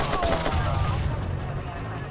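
Gunfire and a grenade blast in Watch Dogs, a dense, loud barrage of rapid shots and booming noise running the whole short stretch, with a voice mixed into the chaos.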